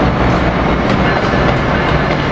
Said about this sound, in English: we got what is 4032, P40 4032, bringing in New Jersey Transit train